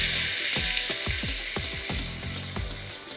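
Ground beef and onions frying in vegetable oil in a pan, a steady sizzle under a series of sharp scraping knocks from a wooden spoon pressing and stirring the meat, close and moderately loud.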